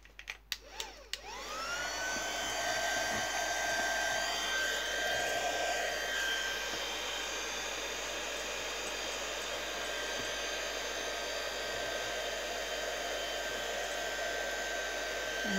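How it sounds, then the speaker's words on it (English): Heat gun drying a craft project, a few handling knocks then a loud, steady, continuous blowing whoosh with a fan whine that runs unbroken, close and alone. "I'm gonna dry that now with my heat gun"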